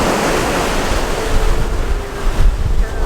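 Ocean waves and strong currents break against a volcanic rocky shore in Puerto Rico, a loud continuous surf roar mixed with heavy wind buffeting the microphone.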